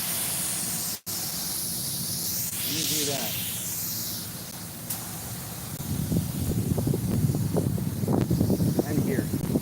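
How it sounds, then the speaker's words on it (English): Compressed spray hisses in long bursts in an auto shop, with a louder, rougher stretch of spraying toward the end while someone speaks briefly. "Maybe I need to spray further away."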